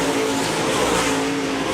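Race cars roar around a dirt speedway at a USMTS event at Park Jefferson Speedway, a dense, steady, loud engine drone with no breaks throughout.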